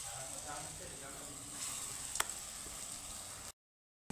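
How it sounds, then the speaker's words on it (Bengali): Masoor dal fritters fry in hot oil in a wok, giving a steady close sizzle with a faint crackle that stays even, then cuts off abruptly near the end. "উল্টে পাল্টে লাল লাল করে ভেজে নেব"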